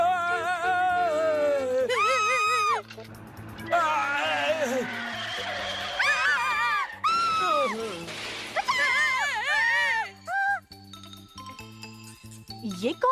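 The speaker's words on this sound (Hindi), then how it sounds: "ये कौन चिल्ला रहा है?" A cartoon character in a Ninja Hattori episode screams in repeated, wavering high-pitched bursts, mixed with jingling effects and crashes.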